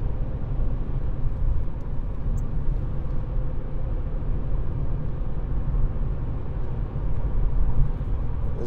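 A 2017 Volkswagen Scirocco 1.4 TSI BlueMotion Tech GT Black Edition three-door drives along with a steady, loud low engine and road drone that holds evenly throughout, with no talking.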